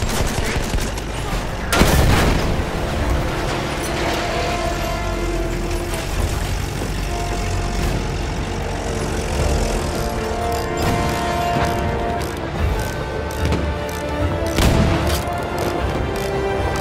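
Artillery fire during a Monte Grappa Operations battle in Battlefield 1: heavy booms and dense gunfire, with a big blast near the start and another toward the end over a constant loud rumble of combat, with a brief voice.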